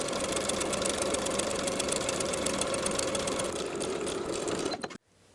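A domestic sewing machine stitching along a shorts waistband seam, a fast, even whirring rattle running steadily for about five seconds, close and clear, before stopping abruptly.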